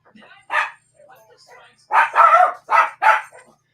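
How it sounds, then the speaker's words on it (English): Dogs barking indoors, several sharp loud barks in a quick cluster after a few softer yips, with a person talking nearby. "my dogs are barking, going crazy"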